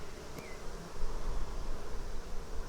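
Honeybees buzzing close by during a hive inspection, a steady low hum of the colony with a brief higher whine passing, with no talking.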